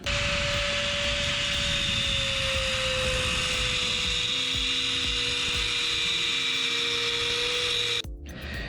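Metal caliper bracket for a Coleman CT200U-EX mini bike cut with a high-pitched power tool, a loud steady whine that holds for about eight seconds, then cuts off abruptly.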